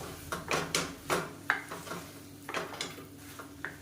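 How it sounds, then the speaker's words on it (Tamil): Soya chunks being stirred into a kuruma in a pan, with repeated soft scrapes and taps of a spoon against the metal and a faint sizzle beneath, quiet and close with no talk. "இது நல்லா இதோட பரட்டி விட்டுக்கலாம்"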